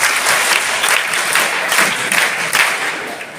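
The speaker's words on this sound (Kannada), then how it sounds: "ಚಪ್ಪಾಳೆ." Loud, sustained applause from a crowd at a government school notebook distribution event, honouring the local MLA; dense clapping continues steadily throughout without pause.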